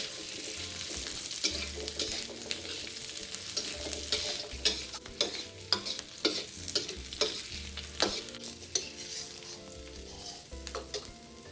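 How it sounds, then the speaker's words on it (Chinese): Shallots, garlic cloves and ginger slices sizzle in hot oil in a wok while being stir-fried until golden. A steady frying hiss runs throughout, punctuated by repeated scraping strokes of the spatula. "60克小紅蔥，60克蒜瓣， 炒至金黃，香味四溢"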